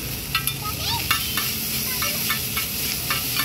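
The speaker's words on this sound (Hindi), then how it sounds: "तो अच्छे से भूनना पड़ता है, यहाँ पर भूना जा रहा है।" Chowmein and chaat frying together in a pan at a street food stall, a steady close sizzle with regular scraping stirs of a spatula every half second or so, no voices.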